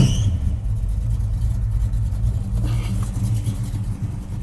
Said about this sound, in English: I'll give her some gas so she doesn't stall.